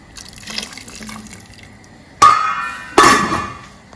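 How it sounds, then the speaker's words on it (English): Vegetable cooking water is poured into a pot of pork pepper soup in two short splashing bursts after a quiet stretch of faint kitchen sounds. "I'll go ahead and add the water from the veggie to the soup."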